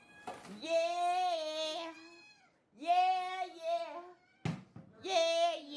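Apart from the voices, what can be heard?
cat meowing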